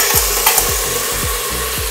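Onion and tomato frying in a pan, a continuous sizzle broken by four regular low scraping stirs, close and loud with no talking.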